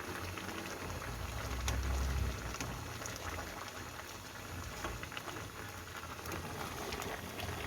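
Salmon braising in soy sauce bubbles in a pot, a dense, steady crackle of boiling liquid that is fairly quiet and continuous throughout.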